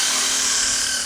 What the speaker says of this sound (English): we're essentially giving it one final sand, just to get the aluminium oxide layer off